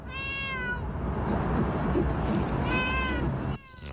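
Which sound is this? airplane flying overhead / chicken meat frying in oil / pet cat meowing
pet cat meowing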